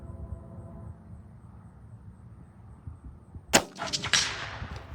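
A rifle, a Mossberg MVP or Savage 93, fires at a steel target: after a quiet stretch, one sharp crack is followed by a bright metallic ring and a few fading ringing echoes.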